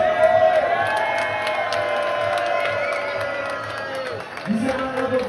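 A crowd celebrates RB Leipzig's cup win with loud, sustained cheering and chant-like voices, broken by shouts, and a fresh swell of noise rises near the end.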